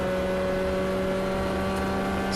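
Formula Woman Jaguar race car at a club race circuit, a sustained steady engine whine with strong tonal hum that holds level throughout, fairly close, with a faint brief rise near the end.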